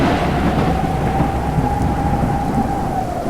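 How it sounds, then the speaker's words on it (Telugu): Heavy rain pours down in a dense, loud continuous hiss, with a low rumble of thunder rolling underneath throughout. "ఏలియా ప్రార్థించగానే భారీ వర్షం పడింది."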